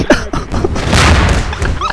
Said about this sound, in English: Oh, no, that's a grenade.